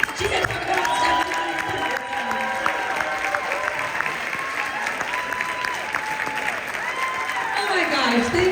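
An audience stands, applauding and cheering for a speaker at a professional leadership conference, with dense, steady clapping mixed with whoops and shouts that runs loud and continuous throughout, with voices calling out over it.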